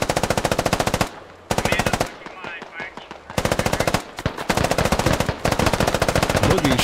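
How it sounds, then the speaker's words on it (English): Automatic rifle fire in the military shooter Squad, long sustained bursts of rapid, loud, close shots with brief gaps, firing blind through a bush, and a voice speaking faintly in a pause. "Boogie shooting blind through a bush"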